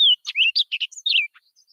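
Recorded birdsong plays in short clear bursts, a quick series of bright chirps and whistled notes that fade into faint trailing calls, with no background noise.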